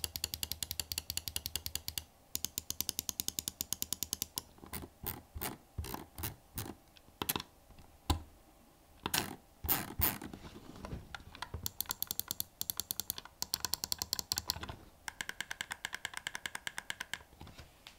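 Buttons on a Razer Basilisk V3 gaming mouse with optical switches click rapidly and close up, in dense rattling runs interspersed with slower single clicks and short pauses, with no one talking.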